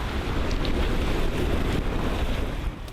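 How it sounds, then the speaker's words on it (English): Strong southwest breeze on a sailboat, a loud rushing buffet of wind noise over the microphone with water washing underneath, continuous and close, easing slightly at the end. "we've got a strong breeze right out of the southwest"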